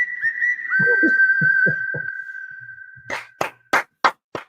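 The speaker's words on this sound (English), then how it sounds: "Here comes the whistle." A long, steady whistle note rings out at a live AL Wild Card baseball game between the Yankees and Red Sox, followed by several sharp bursts of crowd noise or claps near the end.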